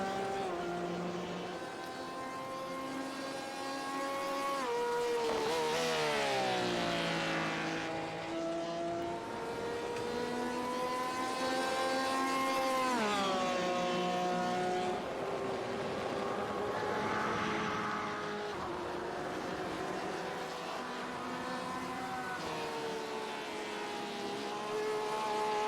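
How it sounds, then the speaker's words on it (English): Several race cars lap a racetrack, including a Porsche, their engines rising and falling in pitch as they pass, loud and continuous with no talk. "Couple cars on track here."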